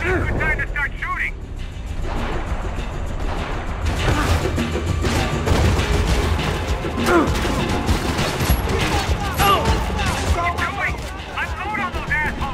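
Sustained gunfire and explosive crashes from the shooter game Max Payne 3 run continuously and loudly through a dense mix of game sound, with voices speaking over the action.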